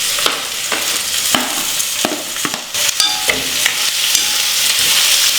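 About a quarter kilo of chopped ivy gourd frying in oil, a loud crackling sizzle broken by repeated scraping strokes of a spoon stirring the pan.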